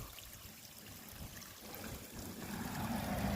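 Spring water trickles steadily out of a hillside in a quiet neighborhood, a constant soft wash of running water that swells slightly louder toward the end, with no voices.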